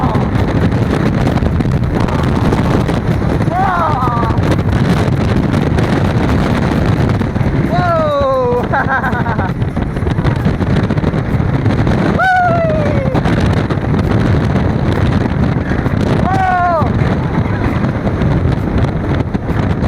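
Heavy wind roar rushes past while riding the I305 roller coaster, loud and constant throughout, with riders' whooping and shouted exclamations rising over it at intervals.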